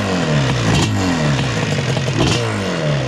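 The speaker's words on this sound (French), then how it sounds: "Ah ouais, ça fait du bruit l'embrayage." A 521cc Yamaha Banshee dragster quad has an engine that revs and crackles in rough two-stroke bursts, with its clutch clattering loudly nearby. Pitch sweeps rise and fall repeatedly over a few seconds.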